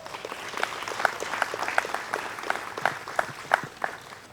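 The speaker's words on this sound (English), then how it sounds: "Let's give him a round of applause." Audience clapping at a Native American Night conservation foundation event, a moderate crowd of scattered claps with crisp individual hand slaps standing out, steady and fairly close, with no talk over it.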